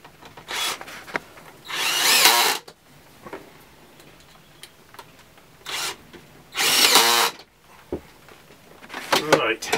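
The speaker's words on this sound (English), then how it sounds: "We'll pop a couple of screws in." A power drill drives screws into a wooden steam-bending former for a continuous arm Windsor chair, two sustained whirring bursts about a second long each, with scattered handling knocks and taps between them.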